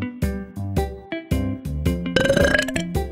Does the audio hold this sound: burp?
yes